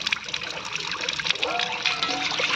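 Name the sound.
water running while washing fish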